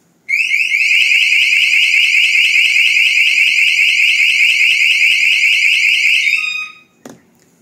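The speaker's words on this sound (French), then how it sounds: "j'ai mon alarme qui s'est enclenchée" A loud, steady electronic house alarm siren blares continuously for about six seconds, then cuts off, followed by a single short knock or click.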